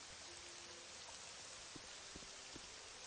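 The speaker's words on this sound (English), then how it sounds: "Oh, now it's raining now." Steady, even rain falls throughout a video game scene, a soft continuous hiss with a few faint thuds and no voices.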